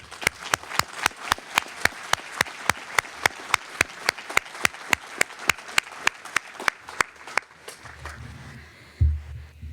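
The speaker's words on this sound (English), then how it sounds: "I'd like to give a round of applause to our families who are here today" Spaced, sharp claps ring out in a steady, even rhythm from an audience at a university convocation and hooding ceremony, then fade into a low room rumble and a soft thump.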